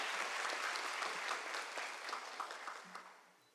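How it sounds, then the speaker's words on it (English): A crowd applauds, a dense patter of clapping that gradually thins and fades out. "Let's give them a big round of applause."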